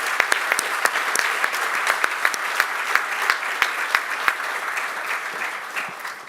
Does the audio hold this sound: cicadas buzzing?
no